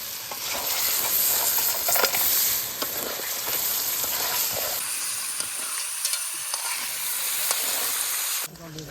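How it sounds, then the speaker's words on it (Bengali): Crab stirred and sautéed in a hot pan for a Sundarbans crab curry, a loud continuous sizzle with scraping stirs, close up, the frying easing briefly before a sudden cut near the end. "কাঁকড়া কষানো হয়ে গেছে, জলটা দিয়ে দাও"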